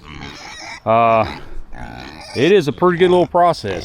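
Kune Kune pigs give close, loud grunts and short squealing oinks in quick bursts, mixed in with someone talking nearby.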